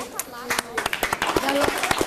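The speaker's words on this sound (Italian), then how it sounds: "2 applausi per lui." A TV studio audience applauds a young footballer from the Albignasego Calcio youth team. Brief patters of clapping mix with nearby voices talking over them.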